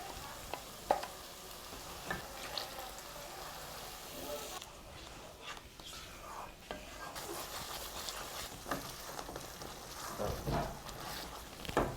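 Spice paste of cumin powder, sugar and green chillies for a rohu fish malai curry frying in a pan, steady sizzling under stirring scrapes and occasional clinks of utensil on metal, fairly close throughout.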